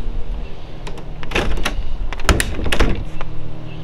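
The black-lacquered door latches on a 1948 Ford Super Deluxe Woody Wagon make a few sharp mechanical clicks and clunks, heard close up with faint background noise.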